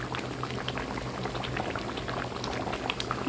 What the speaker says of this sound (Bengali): এখন ঝোলটা ধরে দিয়ে ঢেলে দিব।